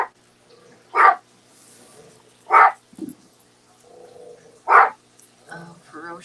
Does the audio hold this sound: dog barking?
yes